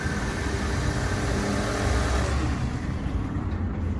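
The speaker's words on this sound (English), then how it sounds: "I'll try and get the engine sound as well." A petrol Skoda Octavia vRS mk3 engine idles steadily nearby, a constant low rumble with a faint rise in revs midway, and no talking.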